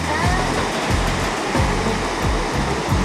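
Surf rolling onto a long sandy beach in Albania, a steady loud roar of breaking waves filling the whole clip with no voices.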